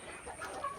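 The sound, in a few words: desi chickens clucking on a farm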